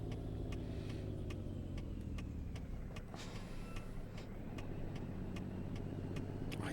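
Kenworth K100 cab-over truck in American Truck Simulator, its engine droning steadily at cruising speed with a low rumble and faint clicking, continuous and fairly quiet throughout.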